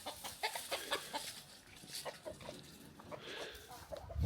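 Roosters crow repeatedly in a quiet residential neighbourhood near a small guest house in the Philippines, several birds calling over one another with loud nearby crows and fainter distant replies, alongside clucking fowl.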